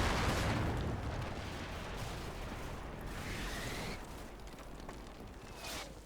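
Artillery barrage in the Combat Mission Shock Force war game, with dense, rumbling booms and blasts rolling together into a continuous loud roar, no voices.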